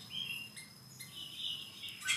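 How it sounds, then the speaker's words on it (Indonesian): A white-rumped shama (murai batu) singing in an aviary, bright chirping and whistled phrases repeating in short bursts, fairly faint over a light background hiss, no talk. "Ini burung murai batu yang belum kita lepas di aviari"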